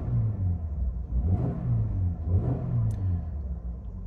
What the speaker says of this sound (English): We'll give it a couple of revs here.